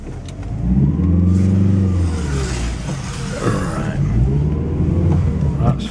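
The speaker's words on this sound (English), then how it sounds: "I'll just put me belt on and then we'll go for a little drive, see what gearbox is like and everything" A VW Polo car engine revs up as it sets off, rising and falling mid-pitched surges close by, with a voice briefly speaking over it.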